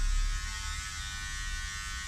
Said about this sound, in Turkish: Zaten makineyi oraya sürttüğünüz zaman oradan kılları, saçları alıyor.